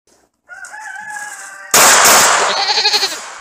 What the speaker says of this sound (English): with roosters and goats making noise